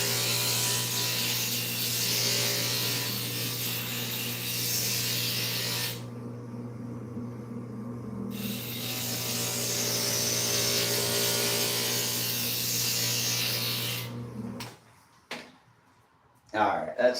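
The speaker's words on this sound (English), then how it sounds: "to keep this line going, I just need to grind a little bit there" A stained glass grinder grinds a glass piece with a steady, loud whirring hiss. The hiss briefly dulls midway, then cuts off near the end, leaving short knocks and quiet.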